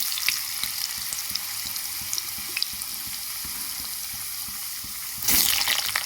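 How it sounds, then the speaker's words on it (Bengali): Potato pieces fry in hot oil in a pan, giving a steady, close hiss and crackle that swells into a louder burst of sizzling near the end, with no talking. "আগে আলুগুলো ভেজে নেব।"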